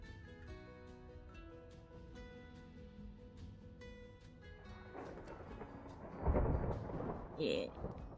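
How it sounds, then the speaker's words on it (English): Thunder rumbles during a storm in the Minecraft video game, a deep roll swelling late over soft rain and game music, with a louder crack near the end. "I'm hearing thunder."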